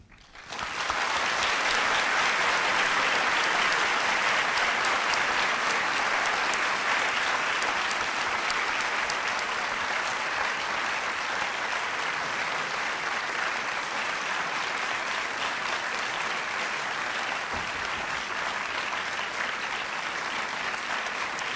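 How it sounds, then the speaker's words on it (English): Sustained, loud audience applause fills the lecture hall at the close of a business school lecture, a dense, steady wash of clapping that holds evenly for about twenty seconds with no talk over it. "I think that applause says it's all"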